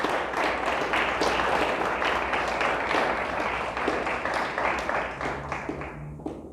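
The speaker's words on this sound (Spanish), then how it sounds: "Dele fuerte el aplauso a Dios." A church congregation applauding, dense sustained clapping from many hands that stays loud throughout and thins slightly toward the end, with faint voices mixed in.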